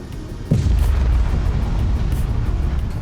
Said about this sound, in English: Whoa. Incoming rounds.